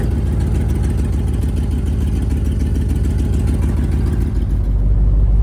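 A Ford Expedition with a haphazardly fitted, leaky exhaust and oil leaks idles in the cold, its engine a steady, close, loud low rumble with an even pulsing throb and no talking.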